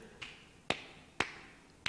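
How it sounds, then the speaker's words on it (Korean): A Casio WK-240 keyboard plays its recorded hand-clap sample as a short repeating rhythm: one soft clap, then three louder, sharper claps at a steady pace, with no talking. "지금 2번에서 나오고 있는 이 박수 소리를"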